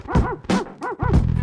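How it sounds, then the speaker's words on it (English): A dog's barks are played back as music pitched in the key of B, four short tonal yips and bow-wows in an even rhythm, loud and close. "Keep forgetting what key my dog barks are in."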